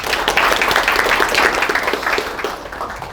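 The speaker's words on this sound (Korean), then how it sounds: "박수 한번 주십시오." Audience applause welcoming a lecturer at a Korean political forum lecture, loud and dense clapping from a full room that holds steady and then tapers slightly toward the end.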